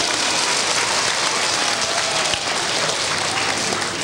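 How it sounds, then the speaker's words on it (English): Sustained applause from a school audience of children at a magic show, a dense, steady wash of many hands clapping at once, loud and continuous throughout with no pauses. "Let's give him a nice round of applause."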